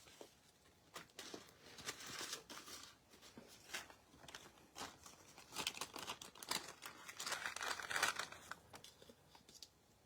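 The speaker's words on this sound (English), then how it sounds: "Let me grab a piece of paper." Paper is handled and crinkled close up during an embossing powder craft demo, with continuous rustling, crackling and tearing-like bursts across the whole stretch, fairly quiet with no talking.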